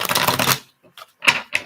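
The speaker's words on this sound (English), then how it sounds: "LYDEL, one more shuffle." Tarot cards being shuffled, a brief riffle of crisp flapping followed by two short card snaps, close and fairly loud.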